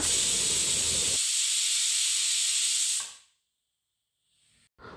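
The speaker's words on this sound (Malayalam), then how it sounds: "കുക്കറിൻ്റെ ഇപ്പോൾ വിസിലൊക്കെ വന്ന് എയറൊക്കെ നന്നായി പോയിട്ടുണ്ട്" A loud, steady hiss of steam rushes out of a pressure cooker for about three seconds, then cuts off abruptly into near silence, followed by a brief rustle.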